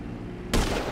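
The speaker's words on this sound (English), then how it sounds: "Now I'm taking the shot." Rifle shot in GTA 5 on PC, a single abrupt loud crack cutting into a low ambient hum and ringing out briefly afterward.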